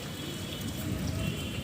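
Rain falls during a thunderstorm with lightning. It is a soft, continuous hiss of drops spread across the whole stretch, fairly faint and with no voices.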